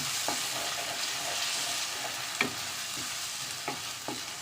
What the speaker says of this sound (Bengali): এবার আমি জাস্ট এটাকে মিক্স করে নেব